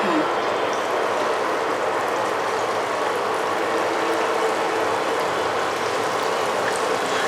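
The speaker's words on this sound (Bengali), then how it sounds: "এখন আমরা হচ্ছে কোফতাগুলো ভেজে নেব এক এক করে" Raw banana koftas frying one by one in hot oil give off a steady, dense sizzle and crackle throughout, close and fairly loud, with no talk over it.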